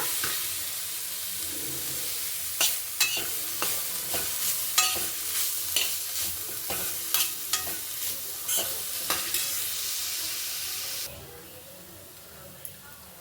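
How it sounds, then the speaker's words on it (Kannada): Carrots fry in ghee in a hot pan, with a crackling sizzle and a rhythm of repeated stirring scrapes up close, before the stirring stops and the sound drops to a quieter sizzle near the end. "ತುಪ್ಪ ಹಾಕ್ಕೊಂಡು ನೋಡಿ ಕ್ಯಾರೆಟ್ ಹಾಕ್ಕೊಂಡು ತುರ್ಕೊಳ್ಳೋಣ ಇದು ಸ್ವಲ್ಪ ಸಾಫ್ಟ್ ಆಗೋ ತನಕ"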